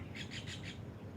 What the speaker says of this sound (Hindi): पक्षियों की मधुर आवाज़ सुनते हुए खुले आसमान के नीचे